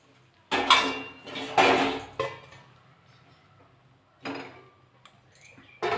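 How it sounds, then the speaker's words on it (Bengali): Ash gourd pieces tumble into a wok on a gas stove in a home kitchen, a few loud clattering bursts of clinks and knocks separated by short quiet gaps, close and with no talk. "কড়াতে চাল কুমড়োগুলো দিয়ে দেবো, দিয়ে সিদ্ধ করে নেবো।"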